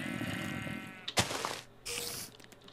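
A sheep near a cow shed lets out a couple of short bleats close by, separated by a sharp knock and a brief rustle, with no talking over them.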